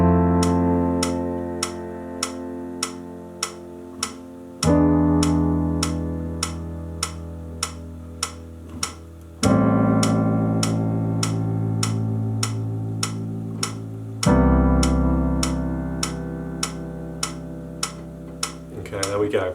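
Piano chords held two measures each at 100 bpm, four sustained chords changing roughly every five seconds under a steady ticking metronome click, loud and close with no talking.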